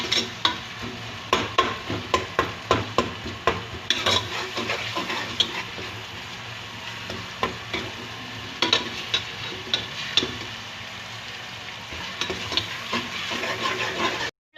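Lightly salted onions fry toward golden in a hot pan, sizzling steadily while a utensil scrapes and stirs in regular strokes, close and fairly loud, with no talking.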